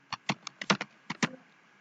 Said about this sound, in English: now you have to type the password